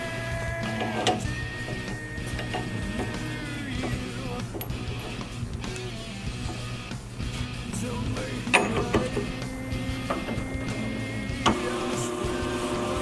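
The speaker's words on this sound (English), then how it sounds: "We're machining the rotors for the Volkswagen as well." Brake lathe machining Volkswagen brake rotors, a steady mechanical whir and hum with gear-like ticking, and sharper clicks and clanks now and then in a shop.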